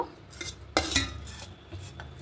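A kitchen plate is picked up and set down, giving two close clattering knocks in quick succession followed by faint light clinks; no speech.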